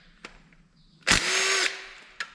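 A quarter-inch power driver removes parts from a 5.3L engine being prepped for new heads and a cam. It gives one short, loud whirring burst, with a few sharp clicks before and after.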